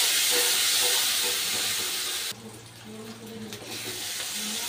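Onion and garlic paste fries in a pan with a loud, broad hiss that suddenly drops to a quieter, lower sizzle partway through, close and without voices.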